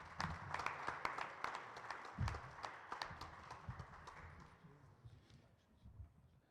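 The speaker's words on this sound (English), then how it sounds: "Can you give him a round of welcoming applause," Welcoming applause from the audience at a men's forum panel event: scattered, uneven hand claps that thin out and fade toward the end, with no speech.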